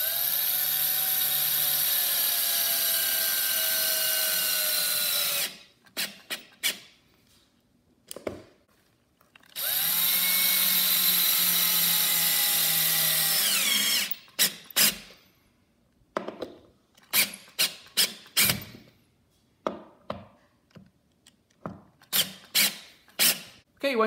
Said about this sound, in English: drill your screws into the holes